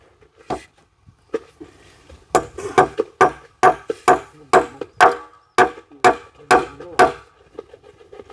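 Nails hammered into a timber house roof frame, a run of about a dozen sharp, evenly spaced blows with a few scattered knocks before them, close and loud.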